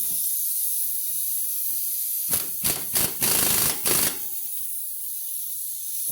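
Wrench and socket tightening the outer nut of a front sway bar link on a Nissan Sentra, a short burst of several sharp ratcheting clicks close up over a steady hiss of background noise.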